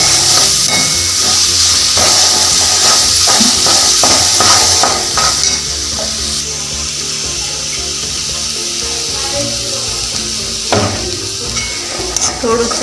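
Crab curry frying in oil in a pan as it is stirred, a loud, steady hissing sizzle with scraping utensil strokes, easing slightly partway through.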